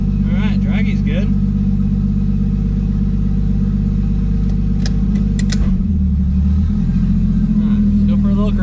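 A Lexus IS300 fitted with nitrous sits close and loud, its engine rumbling at idle with a brief rev and settle partway through, while a voice talks over it near the start.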